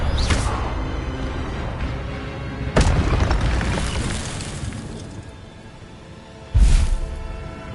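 Expelliarmus spell impacts in Hogwarts Legacy land as three sharp, loud booming hits spaced several seconds apart, each tailing off into a rumbling decay.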